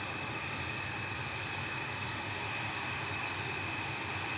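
TUI jet G-TUKS lined up for departure at Manchester Airport, bound for Pula, gives a steady, even engine roar with a thin high whine, held at constant level throughout without any voices.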